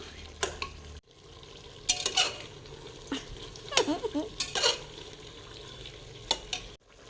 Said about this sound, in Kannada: ಪುದೀನ ಕೊತ್ತಂಬರಿ ಸೊಪ್ಪು ಕಟ್ ಮಾಡಿ ಹಾಕಿದ್ದೀನಿ ಟೊಮೊಟೊ ಕೂಡ ಇದನ್ನು ಸ್ವಲ್ಪ ಹುರ್ಕೊಂಡು